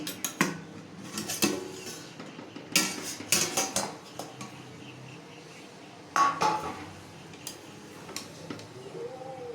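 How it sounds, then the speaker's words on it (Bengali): A metal lid comes off a cooking pot of chicken keema biryani, with a few sharp clanks and scraping clinks of metal cookware and utensils spaced out over a quiet kitchen background. "তারপর আমি ঢাকনাটা খুলব।"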